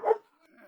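A small dog gives a single short bark up close in a studio, followed by faint softer yips or whimpers trailing off.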